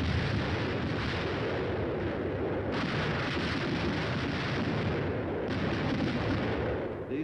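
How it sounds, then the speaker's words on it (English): Rapid, continuous air bursts from a battalion of 105mm howitzers firing at once, a dense rolling barrage of overlapping booms and cracks that stays loud and unbroken throughout, with a few sharper surges of blasts. "The air bursts fired by a battalion of 105mm howitzers present a lively show."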